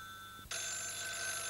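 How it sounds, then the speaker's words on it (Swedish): Office telephone on an Ericsson MD 110 switchboard system, a bright electronic ring cutting in abruptly after a faint tone and holding steady and loud to the end, with no voices. "Det rings mycket här."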